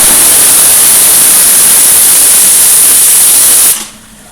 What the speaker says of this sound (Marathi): यानंतर मी कुकरचं झाकण बंद करून घेतलेलं आहे आणि एक शिट्टी करून घ्यायची आहे